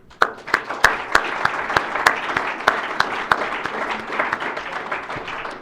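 Audience at a sobriety meeting applauding newcomers, a steady wash of clapping from a medium-sized crowd with sharp individual claps standing out, fairly near and continuous.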